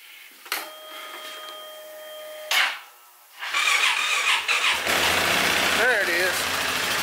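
An ATV engine is cold started: a whining crank is followed by a short pause, then the engine catches and settles into a rough, steady idle close by, with a person speaking over it.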